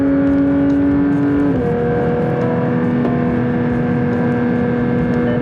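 A car at full throttle on the Nürburgring Nordschleife. The engine drone runs loud and steady throughout, with its pitch climbing and shifting up twice as it builds speed, close and continuous.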